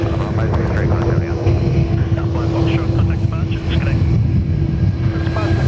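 A Qantas Airbus A330 jet, bound for Singapore, departs Perth Airport on runway 03 with a sustained engine roar and a steady droning hum. A person talks continuously over it.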